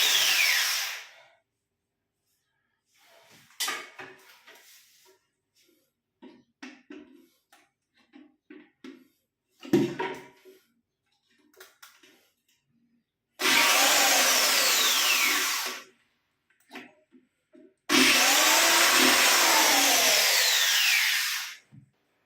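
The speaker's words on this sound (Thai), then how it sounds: "ตอนนี้กะว่าจะเจาะเข้าไปกัน ใช้สว่านเนี่ย เจาะเล็ก" Scattered tapping and scraping, then two long, loud bursts of an electric drill whirring steadily while boring a small hole during a toilet tank repair, each lasting several seconds.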